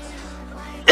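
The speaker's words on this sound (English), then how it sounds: "I kind of have a cough" One short, sharp cough bursts out near the end, loud against a steady low hum in an auto body shop during Bondo filler work on a smashed front end.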